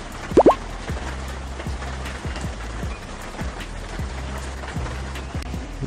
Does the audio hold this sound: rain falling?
yes